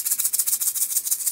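An egg shaker played as a roll gives a steady, fast, hissy rattle of evenly pulsing grains, close and fairly loud, with no voices.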